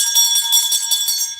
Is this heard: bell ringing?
yes